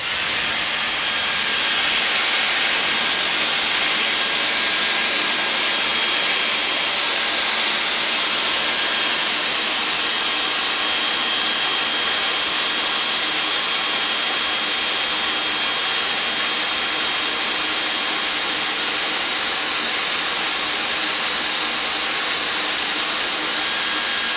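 Dyson Airwrap hair styler blowing a constant, loud, close rush of air while curling hair, steady for the whole stretch with no talking.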